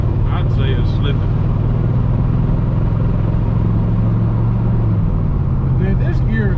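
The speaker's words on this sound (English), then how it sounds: "Revving up real high before it's slipping." Engine of an abandoned 1992 Ford F150 with a slipping transmission, revving high in a loud, steady low rumble throughout, with brief voices in the background.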